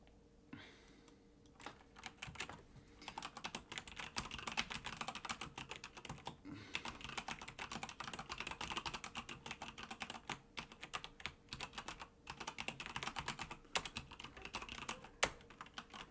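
Fast, continuous typing on a computer keyboard produces dense, close key clicks with a few louder strikes, running steadily throughout.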